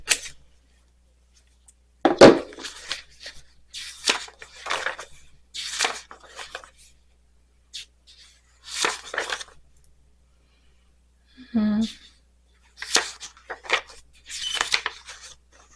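Scissors cut paper from a journal, giving a handful of separate crisp snips spread across a quiet room, each one short and close, with one small clink partway through.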